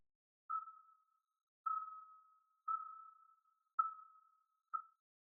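Five separate short, pure tones at one mid pitch, an isolated snare drum overtone near the fifth harmonic, each struck sharply and fading quickly, spaced about a second apart.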